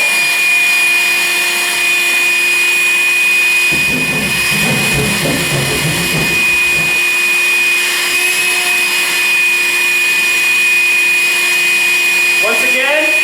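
A vacuum cleaner drones steadily throughout with a constant high whine, joined midway by a rougher, grinding burst of a hole being hand-cut in drywall that fades out again.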